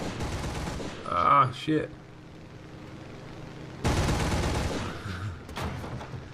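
Machine guns and cannon of a BF 110 fighter in a War Thunder full simulator air battle fire in two loud, brief broadband bursts, with a voice talking over the game.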